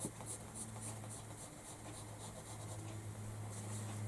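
Scissors cutting fabric for a rag doll's dress, a steady, faint, continuous snipping and rustling texture with a low background hum throughout and no talk.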